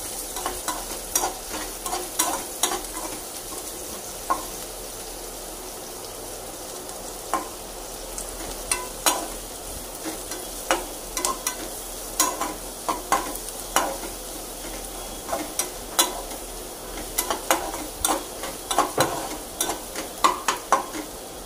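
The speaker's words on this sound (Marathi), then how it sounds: "कांदा सुद्धा व्यवस्थित आपण परतून घ्यायचा आहे." Onion being sautéed in a pan sizzles softly and steadily while a spatula scrapes and taps it in frequent sharp strokes, close and with no talking.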